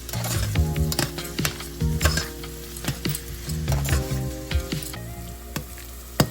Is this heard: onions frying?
yes